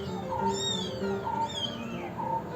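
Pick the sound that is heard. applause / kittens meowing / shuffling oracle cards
kittens meowing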